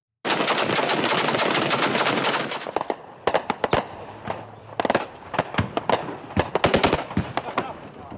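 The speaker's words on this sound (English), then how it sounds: "Firing going on." Sustained machine-gun fire during street fighting in Syria, a loud dense burst for about three seconds followed by scattered single shots and short bursts, close and sharp.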